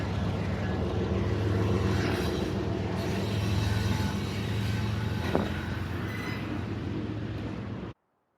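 A loud, continuous rumbling roar of a passing train, steady throughout with a brief metallic clank midway, then cutting off abruptly.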